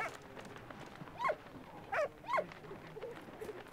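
A dog barks in the video game Valiant Hearts, three short, sharp barks spaced about a second apart at moderate volume over a low background bed, with no talking.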